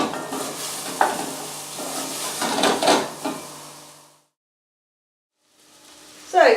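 Mixed vegetables browning in a pan for a beef stew sizzle steadily under clattering stirs, then fall silent briefly before a final utensil clatter.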